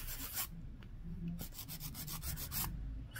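A 100-grit nail file rasps over a polygel nail in close, soft back-and-forth strokes, a steady scratchy rubbing that continues throughout at low volume.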